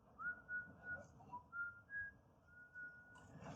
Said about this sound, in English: they start whistling Peach Fuzz's theme song.